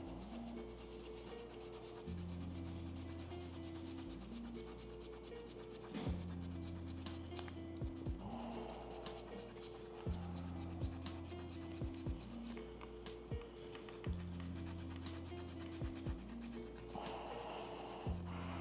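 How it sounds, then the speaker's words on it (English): Rough, steady rasping of 320 grit sandpaper worked back and forth across a resin 3D print, running continuously at close range beneath prominent background music. "we can try using a 320 grit sandpaper"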